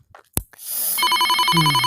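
A telephone rings at night, a loud electronic trill starting after a brief thump and continuing steadily to the end.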